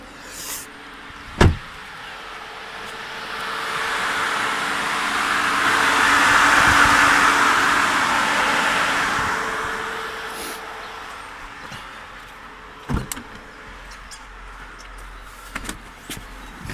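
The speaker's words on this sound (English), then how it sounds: "I'm just going to manually trigger the fans now to see what's going on." A car's electric radiator cooling fans, manually triggered on a V8 Mitsubishi Shogun (Pajero), whir up, hold a steady rushing hum, then wind down, with a few sharp clunks before and after.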